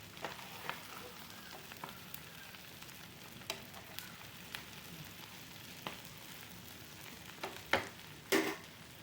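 Grated coconut frying in a pan, giving a faint, steady sizzle dotted with scattered small pops and a couple of louder crackles near the end, with no talking.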